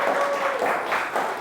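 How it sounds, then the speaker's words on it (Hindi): A church congregation applauding during a sermon: steady, dense clapping from many hands, close and fairly loud, continuing throughout without pause, with faint vocal sounds mixed in. "इस बात में जोरदार ताली से इस खुदावंद यीशु मसीह की तारीफ करें।"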